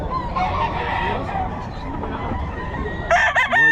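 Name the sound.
Golden Boy breed rooster crowing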